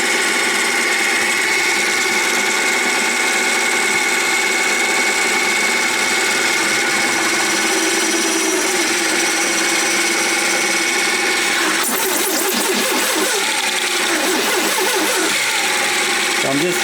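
A drill spinning at 600 RPM bores through HIPS plastic, a loud steady mechanical whine that runs throughout, turning rougher and more broken in the last few seconds as the bit bites into the sheet.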